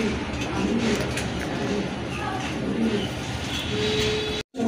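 Pigeons coo softly beneath a dense, steady background of noise, the low coos rising intermittently through the din before a brief dropout near the end.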